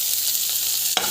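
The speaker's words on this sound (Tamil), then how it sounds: "பச்சை மிளகா போட்டு வந்து அதிகமாக இருந்தாலும் பரவாயில்ல. ஸோ நல்லா வந்து வதக்கிக்கோங்க" Onions and green chillies sautéing in a hot pan, a steady close sizzle with stirring throughout and a brief scrape of the spatula near the end, no voices.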